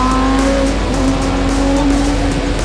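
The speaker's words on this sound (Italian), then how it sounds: "sentire il rombo della Lamborghini è stupendo" A Lamborghini engine roars with a loud, steady, tonal drone while the car drives through Dubai toward the Burj Al Arab, heard up close with no talking.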